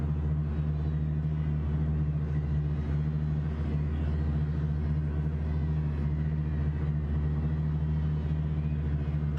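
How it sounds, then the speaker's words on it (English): Race cars roaring past in Gran Turismo 7 during a daily race at Catalunya, a loud steady engine drone with deep rumble holding throughout, no clear separate pass-by peaks. "Do those cars sound like they're going behind you when they went past?"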